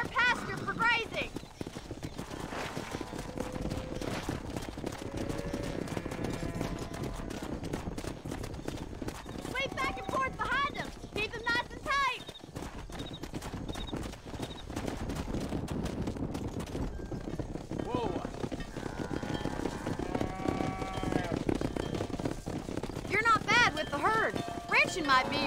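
A herd of horses and cattle in the video game Red Dead Redemption moves with continuous clip-clop hooves and occasional whinnies, with characters talking over the herd throughout.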